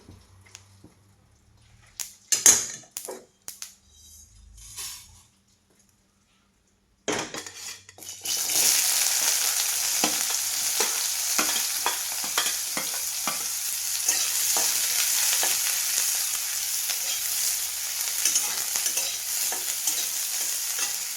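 Onion and coconut roasting in a pan, first a few sharp clinks of a utensil against the pan, then a sustained close sizzle with rhythmic stirring scrapes, no talking.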